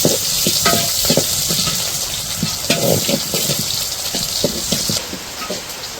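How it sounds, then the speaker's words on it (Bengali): Onion, garlic and cumin frying in hot oil for a dal tempering in a village kitchen, a loud steady sizzle close by with scattered pops and stirring scrapes throughout. "তো এই যে পেঁয়াজ আর রসুন দেওয়ার পর একটু জিরা দিয়ে দিল।"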